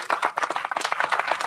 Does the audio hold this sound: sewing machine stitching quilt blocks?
no